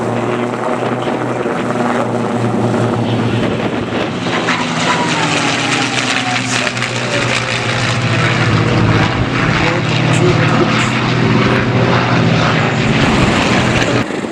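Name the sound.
Mustang propeller aircraft flying at Duxford airshow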